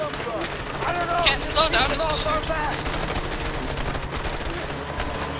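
Rapid bursts of gunfire from the player shooting in the video game A Way Out crackle over a motorbike chase, with dense volleys peaking early then continuing under game music and a player's brief remark.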